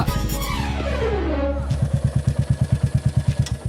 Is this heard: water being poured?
no